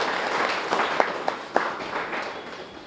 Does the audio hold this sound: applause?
yes